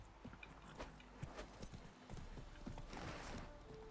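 Hooves of Roach, a horse in the video game Witcher 3: Wild Hunt, clip-clop in a steady walking rhythm, fairly close, over a bed of background game sound.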